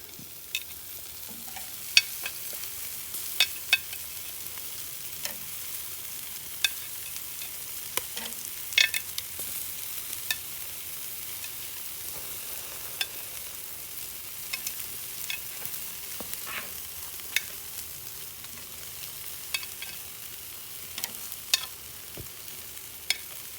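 Steady crackling sizzle of vegetables cooking over hot coals on a charcoal barbecue, with scattered sharp pops and occasional scraping, continuous and close with no talking.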